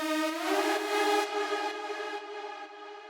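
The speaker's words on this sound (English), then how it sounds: "And we have this glide synth." A self-made glide synth patch, a two-octave sawtooth with stacked unison voices and portamento, holds a bright, buzzy harmonic-rich chord that slides slightly in pitch and sustains steadily for about three seconds, alone and fairly loud.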